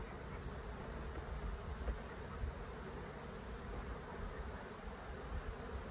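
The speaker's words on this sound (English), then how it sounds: "I got some bees emerging here, fuzzy bees" Steady, dense insect buzzing fills the whole stretch, a continuous droning hum from many honeybees emerging close by in a hive frame, with no talking.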